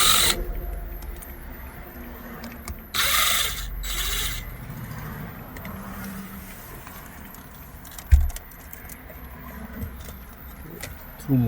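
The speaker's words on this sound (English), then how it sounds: "So I'm going to take the screws out." Screws come out of the radio in a 1997 Jaguar XJ6 dashboard, heard as close metallic rattles, ratcheting clicks and tool handling, with a sharp knock partway through.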